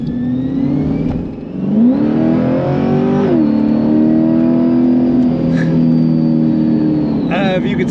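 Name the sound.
supercharged sports car engine accelerating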